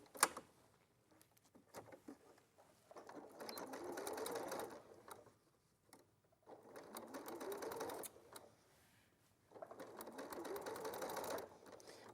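A sewing machine stitches fabric in three separate runs of rapid, even mechanical chatter, each lasting a few seconds with short quiet pauses between, faint and close.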